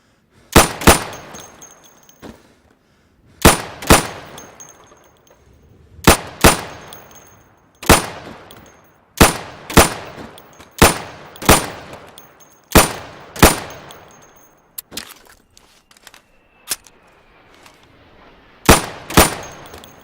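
Gunfire in the Insurgency video game rings out as pop-up targets are shot. About a dozen sharp, loud single shots fall in a steady, evenly spaced rhythm, each with a short ringing tail.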